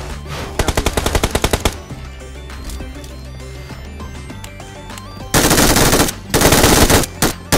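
Bursts of MG3 machine gun fire in PUBG Mobile, loud rapid volleys with short pauses between them and heavier sustained fire near the end, with some game sound beneath.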